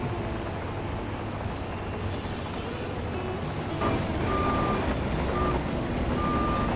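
Repeated electronic reversing beeps from a bulldozer at a mining road site in Farming Simulator 25, sounding in short evenly spaced pulses over a steady loud engine rumble.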